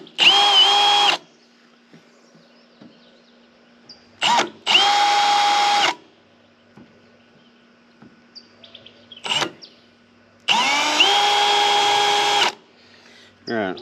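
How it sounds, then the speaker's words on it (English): A power drill whirs in three bursts, a short one, a slightly longer one, then a long steady run, drilling a pilot hole for a trailer winch mount, with quiet pauses and faint talk between. "Drill a little pilot hole"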